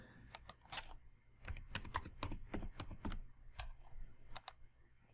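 Typing on a computer keyboard: a quiet, close series of irregular key clicks and taps, bunched in quick bursts with short pauses, alone with no voices.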